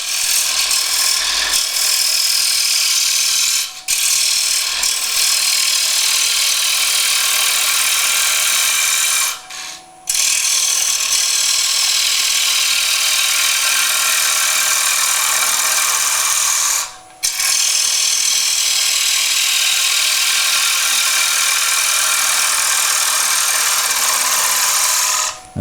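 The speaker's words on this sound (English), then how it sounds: "I'm just going to start cutting the side grain first" Wood lathe spinning at about 1200 rpm while a chisel cuts the side grain of a wooden table lamp, a steady loud scraping hiss with a few brief pauses.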